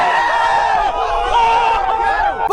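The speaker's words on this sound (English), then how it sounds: "You'd really want the crowd to react a little more like this." Crowd reacting with excited chatter and shouts, a dense layered babble of many voices rising and falling at close range across a few seconds before a brief cutoff.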